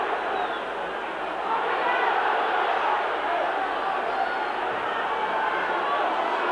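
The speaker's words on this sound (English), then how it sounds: "Crowd screaming for offside" Stadium crowd at a 1997 Wigan v Brisbane rugby league World Club Championship match, a broad, steady roar of many voices screaming for offside, sustained and fairly distant throughout.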